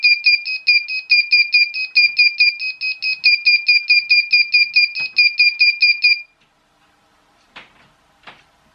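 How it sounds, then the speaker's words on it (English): A digital clock kit sounds its alarm: a loud, rapid string of sharp, high-pitched electronic beeps in pulsed groups for about six seconds, then it stops, leaving a couple of faint clicks and handling noises. "First alarm."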